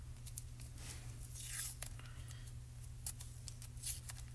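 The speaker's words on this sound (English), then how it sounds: "I will adhere this down with a little bit of tape. Some washi tape." Ordinary washi tape is torn for card making, a few quick crisp rips and crinkles close up over a steady low hum, with no talking.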